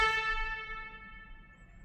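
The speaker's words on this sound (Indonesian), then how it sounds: "Ini suara klaksonnya." Horn of a Hyundai Stargazer MPV sounding once, a bright sustained multi-tone honk that decays over about two seconds with no talk.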